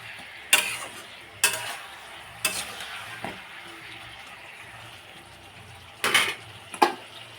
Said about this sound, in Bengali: একটু বেগুনগুলোকেও আমি কষিয়ে নেব।